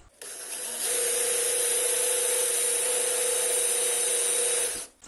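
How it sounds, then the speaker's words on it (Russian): A high-pitched power drill with a ceramic drill bit whines steadily for several seconds, close and loud, starting and stopping abruptly with a constant motor tone. "Для начала возьму сверло по керамике."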